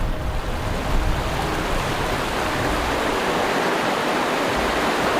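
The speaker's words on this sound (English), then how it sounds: "Just got to the second last rapid before Pantagruel Creek." Cold swift river rapids in a remote canyon rush in a dense, continuous roar of white water, close and loud, steady throughout with no voices.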